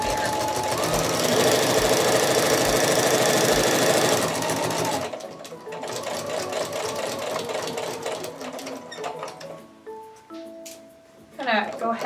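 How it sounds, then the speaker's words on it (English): Sewing machine stitching a jelly roll rug coil runs at a quick, steady mechanical chatter for several seconds, then stops, followed by quieter handling noises and a person talking. "I'm gonna sew to the end here."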